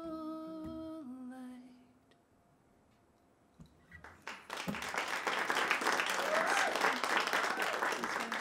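After a sung performance at a live show fades into quiet, an audience bursts into applause, a thick sustained clapping that swells and holds loud to the end.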